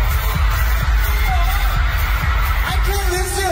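Crowd at a live K-pop show screaming and whooping in excited bursts, loud and dense, with a few sharper rising shrieks near the end.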